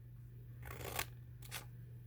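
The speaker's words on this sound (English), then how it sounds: "you're going to need a pair of scissors just to cut this center line" Scissors snip through the center line of a paper pop-up card, two short crisp cutting strokes heard close up in an otherwise quiet room.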